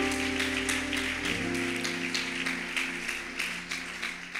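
A church congregation applauding and acclaiming the Lord during a French-language service, steady scattered clapping at moderate distance mixed with faint cheering voices over a sustained organ-like tone.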